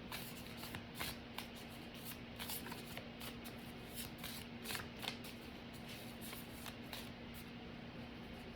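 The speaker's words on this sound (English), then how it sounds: "I'm going to pull from these cards." A deck of oracle cards shuffled by hand in a steady, rustling, riffling rhythm, quiet and close, over a low electrical hum with no speech.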